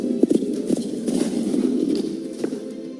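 Horses clip-clopping in a Kentucky tourism advert, a quick irregular run of hoof knocks on a hard surface, fairly close and clear, with no talk over them.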